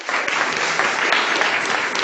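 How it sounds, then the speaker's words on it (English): Audience applause after a series of lightning talks at a scientific conference poster session, a dense, steady wash of many hands clapping close by with no break for two seconds. "Let's give all of the lightning talk participants a round of applause."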